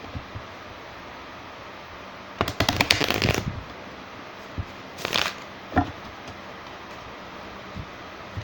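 Tarot cards being shuffled by hand, a dense papery riffle lasting about a second near the middle, then a shorter flick of cards and a few soft taps, close and fairly loud against a quiet room.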